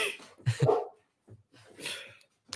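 A dog barking in the background, heard as a few sharp, close barks and yips in two clusters separated by silence.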